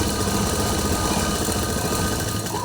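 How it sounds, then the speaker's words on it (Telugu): Motor-driven sewing machine stitching polish edging on a saree, a steady close mechanical whir and vibration running without pause. "మేము ఇప్పుడు మోటార్ మిషన్ తొక్కుతున్నాము"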